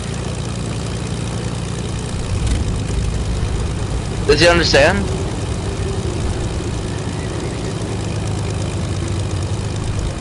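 Propeller airplane engine in the Squad military game, a steady low droning hum running throughout with a brief sharper burst near the middle, while people talk over it.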